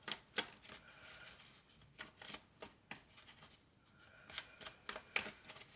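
Tarot cards being shuffled by hand, a steady run of soft, quick riffling flicks and taps, close and quiet, with no talking over them.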